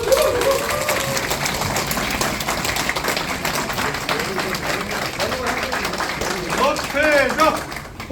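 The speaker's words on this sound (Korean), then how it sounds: "뜨거운 환영의 박수 부탁드립니다." Warm welcoming applause from a crowd at a press conference for the former Daejeon mayor announcing his National Assembly candidacy, steady clapping mixed with crowd noise and voices that build near the end.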